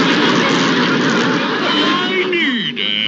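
A cartoon jumbo jet roars past, a loud droning engine whoosh with a falling pitch sweep near the end, voiced over a comic gag.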